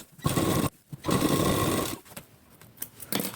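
A sewing machine stitching a plain four-tuck blouse, heard close in two loud, rapid whirring bursts of stitching, each about a second long, followed by quieter clicks and handling of the fabric.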